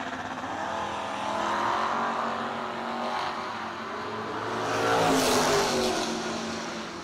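Two drag racing cars, a Ford Mustang and a Chevrolet Malibu, roar down the strip together, a steady loud engine drone that swells toward the end with a rising rev and a hint of tire noise.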